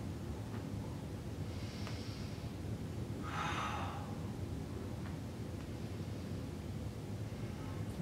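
A woman doing a prenatal yoga breathing exercise blows out a few forceful, airy exhalations, like blowing out candles, faint against a steady background hiss.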